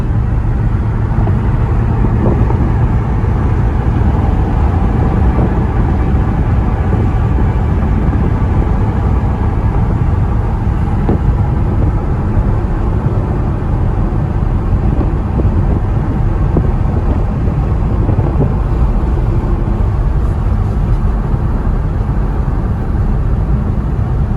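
A 2005 Ford GT accelerating hard on a highway, its engine a loud, continuous roar mixed with heavy wind rush that holds steady throughout, with no talking.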